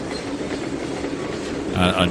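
Rumbling rail noise of train cars being pushed along the track in the Trainz 2019 video game, a steady low clatter, with a brief brighter mechanical burst near the end.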